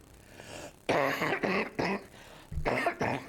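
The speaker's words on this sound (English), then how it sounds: "Gives me an opportunity to cough anyway." Several harsh coughs in quick bursts, close and loud, with a short pause before a final cough.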